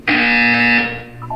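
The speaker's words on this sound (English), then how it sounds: "You will hear a buzzer." A loud, steady electronic buzzer in the video game Portal 2, one sustained harsh tone lasting under a second and then cutting off, followed by faint tonal blips.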